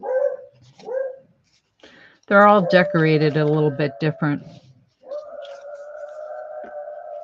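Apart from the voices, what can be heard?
beagle dog barking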